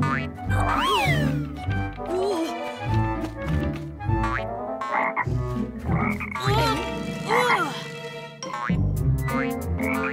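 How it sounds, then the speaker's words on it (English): A cartoon frog croaks loudly and repeatedly near at hand, a series of bouncy, boinging calls with rising and falling pitch, some short and some drawn out, with no speech over them. "It's all right, Holly. It's just a frog. It followed me from the lake."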